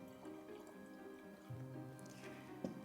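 Hot water poured steadily from a drip kettle onto ground coffee in a pour-over brewer, a faint, quiet trickle and soft splashing over a low background hum with a brief drip near the end.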